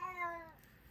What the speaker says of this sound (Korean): 우리 냥냥이 소리 양해 좀 부탁드릴게요 여러분